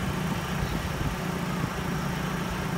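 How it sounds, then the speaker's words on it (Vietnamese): A 2008 Chevrolet Lacetti EX car engine running at a steady idle, a continuous low rumble with no clear start-up burst, close and even for a few seconds with no talk. "Em sẽ nổ máy cho các bác xem cái mẫu xe này."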